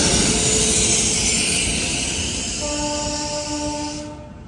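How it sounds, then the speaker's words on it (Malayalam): An Indian Railways train, the Sabarmati Express, pulls into Ayodhya Dham Junction station with a loud rumble, hissing brakes and steady horn tones near the end, close by and with no talk over it. "ഇവിടത്തേക്കൊരു ട്രെയിൻ വരുന്നുണ്ടോ."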